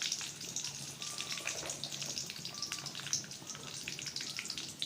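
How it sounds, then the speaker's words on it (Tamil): Curry leaves and two dried red chillies fry in oil with popped mustard seeds, making a soft, close, crackly sizzle with scattered small pops and spits throughout, and no one speaking. "கடுகு பொரிஞ்சதுக்கப்புறம் கருவேப்பிலை ஒரு 2 வரமிளகா சேர்த்து ஆட் பண்ணிக்கலாம்"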